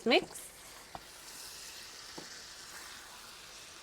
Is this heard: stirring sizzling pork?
yes